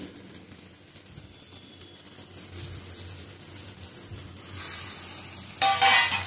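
Drumstick leaves sizzle and fry with softened onion in a pan over a low gas flame, a steady soft crackle with occasional stirring that grows louder and brighter near the end.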